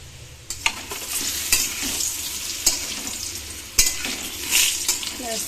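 Potatoes fry in a pan with a loud, continuous sizzle. Periodic scraping stirs and utensil knocks punctuate it at close range.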